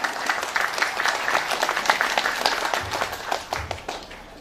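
An audience at an event in Cianjur bursts into moderate applause with scattered individual claps, swelling briefly and then fading toward the end.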